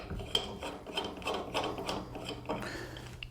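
A threaded stud on a pin installation tool being loosened by hand, heard as a close, continuous gritty scraping and rubbing of metal with faint ratchety clicks.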